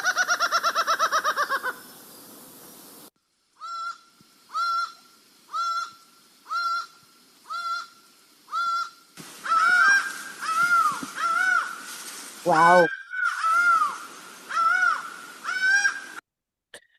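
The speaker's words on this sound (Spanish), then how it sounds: "Escuchemos cómo canta cuando pide lluvia" A laughing falcon calls in a series of repeated loud, clear two-part notes with steady rhythm, preceded by a short burst of rapid cries, heard close and mostly alone with a brief exclamation from a person.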